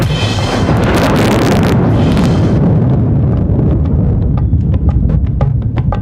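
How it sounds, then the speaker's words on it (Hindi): Loud thunder rolls from dark storm clouds as a sound effect, a dense sustained rumble with crackling bursts early on that thins and settles into a steady low roar, with no voices. "छाई घटाएं घोर तब बादल गरज पड़े,"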